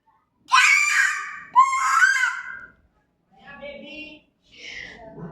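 A voice imitates a crow with two loud, strained caw-like cries, then an adult voice asks a question quietly.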